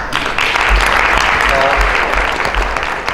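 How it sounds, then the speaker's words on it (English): Warm audience applause for a panel at an urban policy event on the New Urban Agenda, a dense, continuous clapping that stays fairly loud and even from start to finish. "Maybe another warm round of applause for them."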